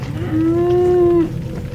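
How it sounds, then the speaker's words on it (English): A single deep, sustained cow moo with a strong steady tone, about a second long, rising out of low background rumble in a misty forest and fading cleanly. "the deep, distant sound of a cow echoes through the mist"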